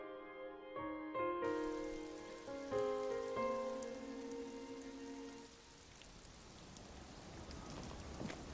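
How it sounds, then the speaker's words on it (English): Steady rain falls in the game Disco Elysium, a soft continuous patter under sustained musical tones that fade out, leaving the rain alone. "It's getting late, and it's raining."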